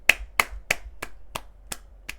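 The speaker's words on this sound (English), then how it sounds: "I don't know if you can hear my clap, but I'm clapping." Seven single hand claps from one person in a casual online chat, sharp isolated claps spaced at a steady, roughly one-per-third-second rhythm, close and clean with no talk.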